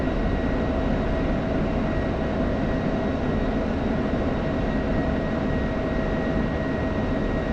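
An F-16 jet in a flight simulator game roars as one loud, steady, unbroken engine drone inbound to a runway, with no voices over it.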